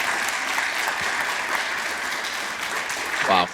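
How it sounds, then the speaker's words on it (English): An audience breaks into a round of applause, a dense steady wash of clapping lasting a few seconds, with a voice rising briefly near the end. "for that alone, you deserve a round of applause"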